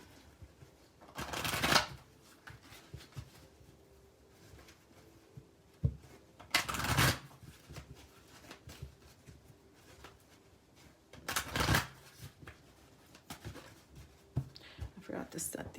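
Oracle cards being shuffled during a love tarot reading, three quiet bursts of riffling a few seconds apart, with soft handling noise between.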